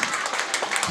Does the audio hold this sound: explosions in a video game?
no